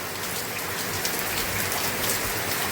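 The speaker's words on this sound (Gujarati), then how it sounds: "વરસાદ છે ને બ્રેક મારવાનું સમજતો જ નથી." Steady rain pours continuously on a village in Gujarat, a dense even hiss of drops striking surfaces, close and unbroken, with no voices.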